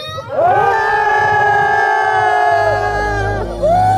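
Crowd at a tug-of-war festival's celebratory concert cheering and whooping loudly in the cold, a sustained roar of voices with a sung or sirening tone riding over it, then music starting near the end.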